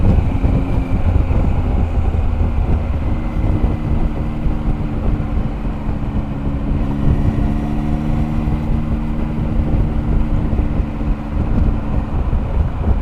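A Zontes 703F motorcycle cruises in sixth gear at over 100 km/h on an expressway, its engine a steady, droning hum with vibration under constant, loud wind rush.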